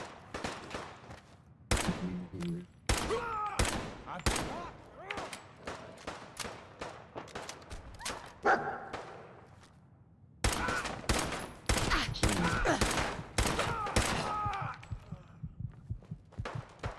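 Gunfire in the video game Fallout 4 Horizon: dense bursts of rapid shots and impacts come in loud clusters with brief pauses, mixed with game effects and occasional voices.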